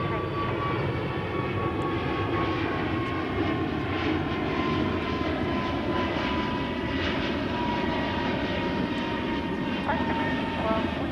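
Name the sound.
arriving airplane at DFW Airport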